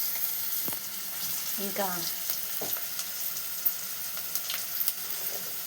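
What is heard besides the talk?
chili powder sizzling in hot oil while being stirred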